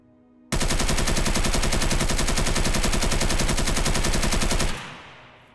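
An unmodded AK-74 in Escape From Tarkov fires one long, loud full-auto burst of rapid, evenly spaced shots lasting about four seconds, then stops abruptly with a brief echoing tail.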